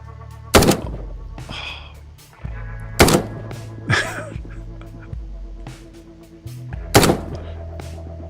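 Gunshots crack in the tactical shooter Ground Branch as enemies are hit in the feet: three loud, sharp reports and a few softer shots, each trailing a brief echo in an indoor storage facility, with faint talk between them.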